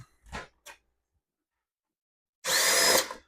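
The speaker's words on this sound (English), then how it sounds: "So it's got 2 Phillips screws that we're going to take out." A power driver whirs briefly near the end as it backs Phillips screws out of a 280Z glove box, following a couple of soft handling knocks and silence.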